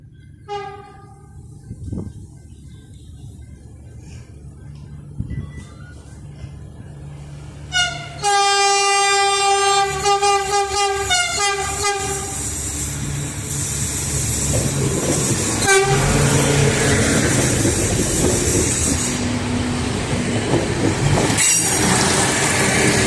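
A train approaches and rumbles past loudly at Selçuk station in Turkey with a long, blaring horn blast, followed by rhythmic wheel clatter and squealing as it goes by.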